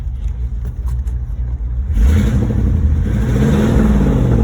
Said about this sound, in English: Turn the key on, push the button, and she fires right up.